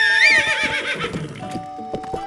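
A horse in Zelda: Breath of the Wild gives a loud, close whinny with a wavering high-pitched cry, followed by a few soft snorts and hoof clops.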